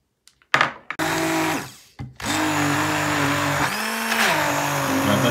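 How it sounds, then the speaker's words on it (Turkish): Electric blender kneading a çiğ köfte mixture with garlic, starting with a few knocks and then whirring loudly with its motor pitch dipping and rising as it labours through the dense mix, alone without talk. "Daha sonra blenderla yoğuracağım."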